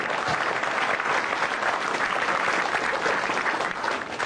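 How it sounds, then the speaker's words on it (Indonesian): A studio audience at a televised Indonesian stand-up comedy show gives loud, dense, sustained applause that runs without a break, with no speech over it. "Tepuk tangan sekali lagi untuk Akbar."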